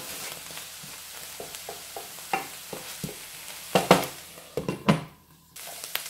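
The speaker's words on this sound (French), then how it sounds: "je vais laisser revenir jusqu'à cuisson totale des épinards" Spinach sautéing in a pan for a goat cheese and spinach puff pastry filling, giving a steady soft sizzle with a series of scraping stirs that grow louder toward the end, with no voices.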